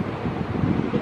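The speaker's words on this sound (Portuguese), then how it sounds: "O vento tá muito forte." Strong wind buffets the microphone outdoors where a kite is being flown, a continuous low rumbling roar with gusty swells and no voices.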